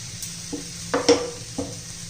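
Potato mixture with fenugreek stems being stirred in a pan, giving a few soft scraping strokes over a faint, steady sizzle, close and quiet with no talking.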